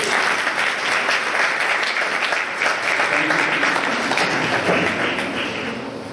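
A congregation at a Sunday church service applauds, sustained dense clapping holding steady for several seconds before easing slightly at the end.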